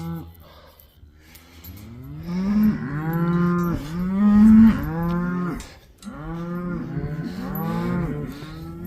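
Cattle lowing repeatedly during pregnancy testing of beef cows, several long, loud moos in close succession from nearby animals, with no talk.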